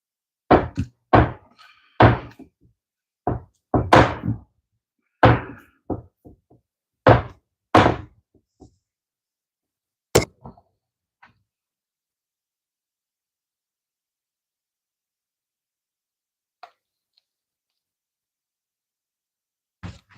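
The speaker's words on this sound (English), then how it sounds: "Getting these fantastic sound effects of me making a burger." Turkey burger patties being made by hand give a string of close, dull slapping thunks in quick clusters, about a dozen over several seconds, then a few sparse taps in near silence.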